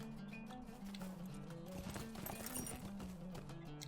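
In the online game The Lord of the Rings Online, a ridden horse's hooves clip-clop in a quick, steady trotting rhythm. The sound is faint and continuous, with no speech.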